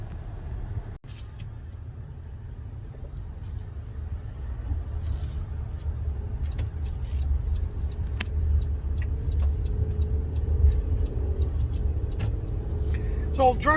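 Honda Ridgeline pickup truck driving, a low steady road and engine rumble from inside the cab with faint intermittent clicks and ticks above it.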